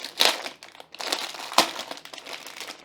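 Crinkling of a plastic pouch holding a wireless mechanical keyboard during unboxing, with several sharp crackling bursts and steady rustling close by.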